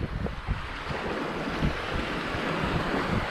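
Surf washing steadily onto a narrow beach at low tide at Fort De Soto in Pinellas County, Florida, a continuous close wash of waves mixed with gusting wind noise and no voices.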